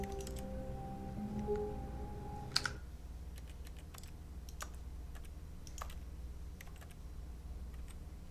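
Computer keyboard keys clicked and tapped at an irregular pace, close and fairly quiet, with a brief louder clack partway through over a steady low hum.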